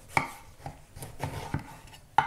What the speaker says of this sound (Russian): Обрежу края у баклажана.